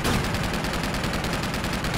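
Rapid automatic gunfire rattles in Uncharted 2, a dense, evenly spaced stream of shots that is loud and continuous for the whole stretch, with no talking.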